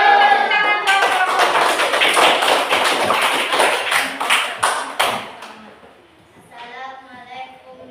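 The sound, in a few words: classroom clapping for a student group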